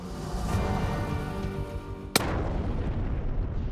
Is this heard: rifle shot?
yes